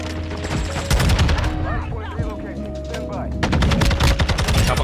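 Rapid bursts of gunfire crackle in a shooter video game, dense automatic volleys near and loud, broken by brief pauses, with a player talking underneath.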